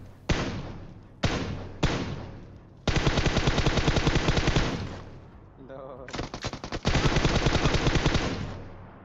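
UZI submachine gun fire in PUBG Mobile, several sharp bursts of rapid automatic shots, close and loud, with a couple of short bursts followed by long sustained strings of fire.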